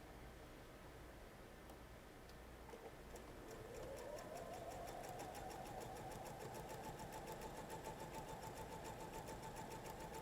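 A sewing machine stitches a quilt's setting square and triangle together, starting quiet and settling into a steady, faint, rapid whirring hum with fine regular ticking that continues alone.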